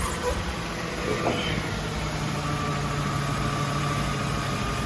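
A Jaguar S-Type car engine idles steadily while refrigerant is added to a new A/C compressor, a low even drone with faint vibration and no revving.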